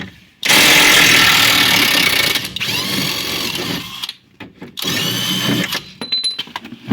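A power tool whirs loudly and steadily while loosening a bolt on a Ford C-Max front control arm, running in several long bursts with brief pauses between them and no talking.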